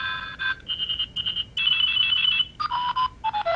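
Cell phone ringtone in the video game Silent Hill: Shattered Memories, a bright electronic melody of short pulsing beeps that shift pitch across several phrases, loud and clear with no talk over it.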